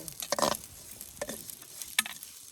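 Chilies stirred and frying in a pan at a night camp cooking setup in the hills, with scraping stirs and crackling sizzle in short bursts, loudest at the start, close by.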